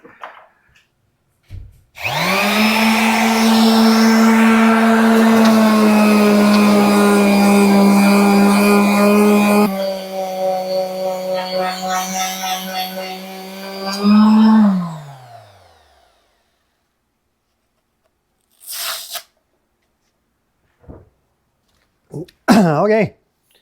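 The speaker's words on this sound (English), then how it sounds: "Okay, let me get the sander." A power sander works fiberglass on a Jeep TJ body, with a loud, steady, high-pitched motor whine that holds for about thirteen seconds, shifts tone partway as it bears on the surface, then winds down, followed by scattered handling noises.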